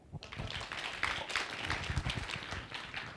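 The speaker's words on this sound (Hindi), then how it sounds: "राजेश भाई के लिए तालियां।" An indoor audience gives steady hand clapping for about three seconds, a dense patter of many claps at moderate volume with no voices over it.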